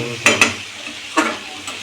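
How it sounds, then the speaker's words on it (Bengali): Chopped onions and potatoes frying in a pan for a home Maggi noodle dish, a soft continuous sizzle broken by a few short spatula scrapes and taps. "পেঁয়াজ ব্যবহার করেছি আলু ভাজছি"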